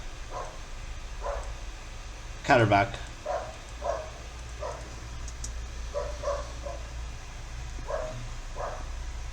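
A Norwegian Elkhound barks once, a short, loud bark close by, while someone talks steadily throughout.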